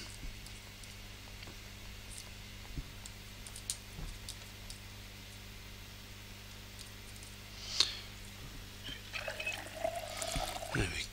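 Water pouring as toilet water is collected in the Project Zomboid video game, a soft trickling wash rising near the end over a quiet steady hum, with a few faint clicks earlier.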